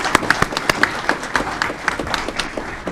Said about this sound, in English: That applause going for our retiring Chief of Police, Keith Cross, as well.